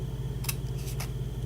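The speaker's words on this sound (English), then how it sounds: "I'm going to take my scissors. I'm just going to cut a small" Scissors snip through designer series paper at a craft table, cutting a short slit into a small 2 by 4 inch piece to form a banner end; two or three quick, close, crisp snips over a steady background hum, no talk.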